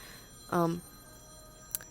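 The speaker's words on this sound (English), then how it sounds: "Sorry for the phone ringing in the background." A telephone rings once in the background during a lecture, a short, faint electronic trill with a quiet click just after.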